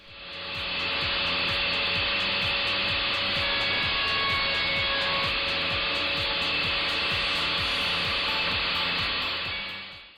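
A router cuts a small roundover along the edge of a wooden wardrobe panel, a loud, steady high-pitched motor whine with a rhythmic rasping as the bit moves down the edge, continuous and close with no talking.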